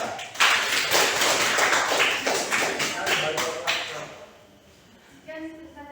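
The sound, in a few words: class applause for group 3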